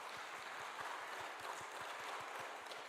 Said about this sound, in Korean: 우리 수고하신 교수님께 우리 박수 한번 치겠습니다